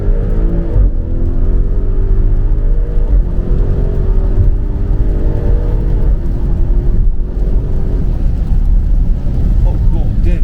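An Audi RS7 quattro accelerates hard, its exhaust roaring loud and close with a rising engine drone that dominates throughout, while people talk over it inside the car.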